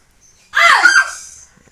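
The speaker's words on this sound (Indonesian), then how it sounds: "Terakhir teriak os gitu ya." Karate students give a single loud group shout of "os" in a dojo, one short burst that rises sharply and fades after about a second, heard alone against near silence.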